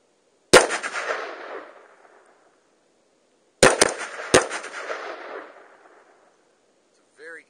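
Pistol fitted with a red dot sight fired at a 10-yard range: one sharp shot, a pause, then a quick string of three shots, each ringing out and decaying in an otherwise quiet setting.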